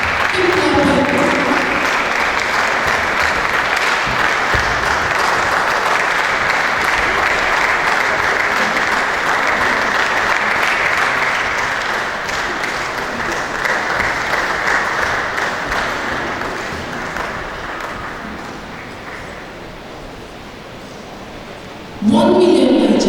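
Long, steady applause from a big crowd at a Nigerian children's reading competition opening ceremony gradually thins and softens, then a louder tonal burst cuts in at the very end.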